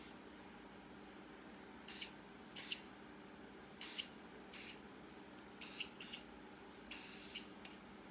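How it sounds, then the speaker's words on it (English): Several short, separate bursts of hairspray from an aerosol can hiss close by over braided hair, irregularly spaced against a quiet, steady background. "I'm just going to give it a little spray of hairspray just to keep it in place"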